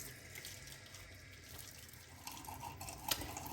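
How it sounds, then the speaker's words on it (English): Warm tap water runs steadily into a sink for a face rinse after a wet shave, a continuous close splash lasting throughout with a small clink near the end and no talking. "Okay, warm rinse."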